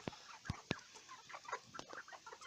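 A red Vorwerk cross hen clucks close by in short sharp bursts, a few loud clucks followed by softer, quicker murmuring calls.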